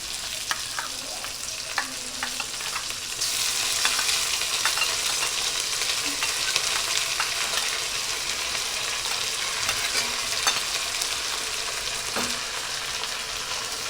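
Boiled potatoes frying in a pan with ginger, cumin and green chili paste, a steady crackling sizzle that grows louder partway through, with occasional stirring scrapes and no talk.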